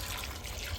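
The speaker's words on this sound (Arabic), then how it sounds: "وهاي راح أضيف المي" Water poured from a container onto cherries in a pot for jam, a steady close trickling and splashing stream that runs without a break.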